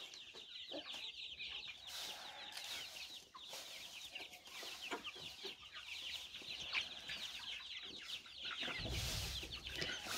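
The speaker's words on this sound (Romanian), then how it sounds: "Găinile mănâncă aici iarbă." A group of chickens clucks softly and continuously nearby while eating grass, with scattered pecking sounds and a brief low rumble toward the end.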